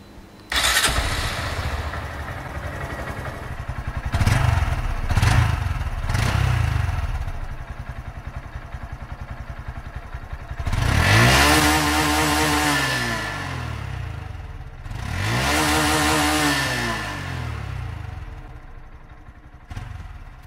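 A brand-new stock motorcycle with its standard exhaust cranks and starts, settling into a loud close idle before being revved hard twice in long rising-and-falling sweeps, with short blips in between.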